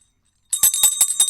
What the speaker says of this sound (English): When you hear the sleigh bells ring like this